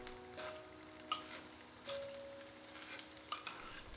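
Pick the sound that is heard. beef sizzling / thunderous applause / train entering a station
beef sizzling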